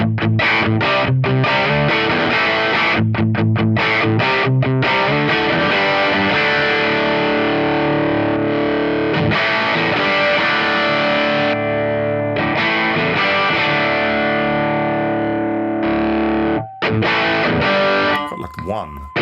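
Heavily distorted electric guitar played through a Laney Ironheart amp simulation, loud and continuous, chugging chords and sustained notes with brief palm-muted stops, cycling through different drive settings.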